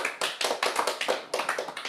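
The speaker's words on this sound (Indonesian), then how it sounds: "Tepuk tangan buat Tuhan." Congregation applause in a church: a short burst of rhythmic, fairly close hand clapping with a few distinct claps in quick succession, no voices over it.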